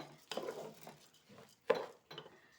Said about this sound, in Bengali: যতক্ষণ এটা একটু লালচে ভাব না আসবে ততক্ষণ এটাকে সুন্দর করে নেড়ে চেড়ে ভেজে নিতে হবে